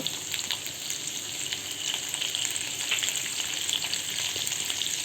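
Raw green mango pieces with red chili masala frying in a pan, a steady close crackling sizzle throughout with no talking.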